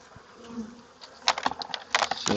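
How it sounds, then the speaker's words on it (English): Bees buzz close by in an opened home-yard hive, a faint hum broken by sharp crackling bursts as the colony stirs over a couple of seconds. "You see how many bees are in that?"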